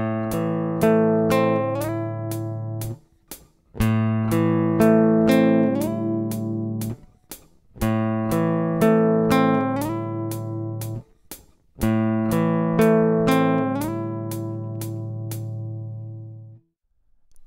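Fingerstyle acoustic guitar plays a sad love-song exercise, four repeated phrases of plucked notes, each ringing out then stopping before the next begins, clear and close with no talking.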